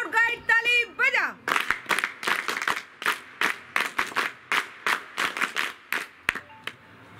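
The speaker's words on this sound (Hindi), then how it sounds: "तो जोरदार तालियां इन सब लोगों के लिए। एक साथ स्काउट गाइड ताली बजा।" Scouts and guides at a school anniversary celebration break into a burst of rhythmic group clapping, sharp even claps following a man's spoken call, loud and close.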